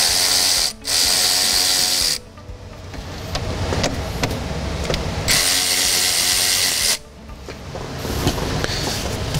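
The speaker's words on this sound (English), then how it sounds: "We're just going to go ahead and loosen up these worm drive" Worm drive hose clamps are loosened with a powered driver on a Ford Powerstroke 6.7L diesel turbo setup, producing loud whirring bursts that stop and restart, with ratcheting and mechanical clatter between them.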